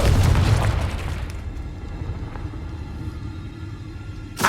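A Confringo fire spell bursts in Hogwarts Legacy, a single loud, deep boom at the start that rolls into a fading rumble, ending with a small sharp pop.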